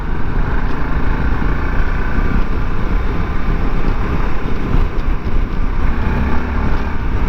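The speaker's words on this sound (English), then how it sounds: "I mean, that is that big thumpy single cylinder there" Voge DSX650 single-cylinder motorcycle pulling away in third gear at about 40 mph, a loud steady engine drone with heavy wind roar throughout, no speech.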